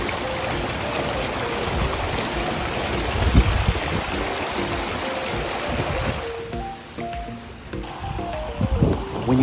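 Rushing water from a waterfall among cliffs in Iceland pours as a steady broadband roar, loud and close, easing somewhat toward the end as tonal sounds appear.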